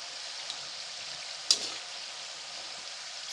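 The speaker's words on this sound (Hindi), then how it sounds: "इसी तरह से अलट पलट कर आप तलते रहिए, डीप फ्राई करते रहिए।" Namak pare deep frying in hot oil while being turned, giving a steady, close sizzling hiss throughout with one brief soft knock partway through.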